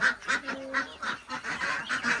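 Farm ducks or geese give a quick series of loud honking, quacking calls, about eight rhythmic bursts close to the microphone.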